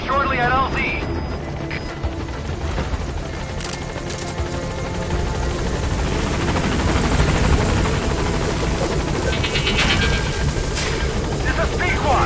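Helicopter arriving at a landing zone in Metal Gear Solid 5, a loud continuous rotor thrum that builds slightly, heard alongside game sounds and a radio-style voice talking.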